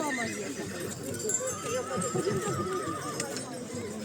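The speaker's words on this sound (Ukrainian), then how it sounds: "Ох, який великий кінь." Horse neighs at a horse show in a mountain village, a whinny rising over a busy outdoor crowd with hoof clops and voices talking nearby.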